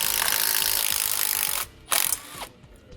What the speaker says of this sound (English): We're going to use a 15mm socket to remove the 2 bolts that hold each bushing on.